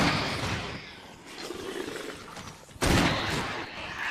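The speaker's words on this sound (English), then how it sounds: "took 2 Magnum shots to defeat a hunter" Two heavy Magnum revolver shots in the Resident Evil REmake game: a sustained booming blast with long decay, followed by a second, sharper loud report near the end.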